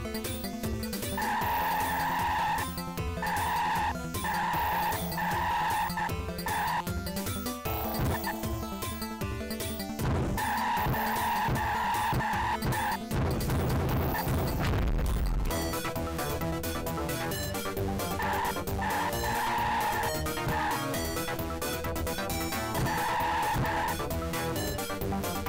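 Cars ramming and skidding in the Megarace video game, with tire squeals and engine noise under loud looping game music and a burst of crashing noise partway through.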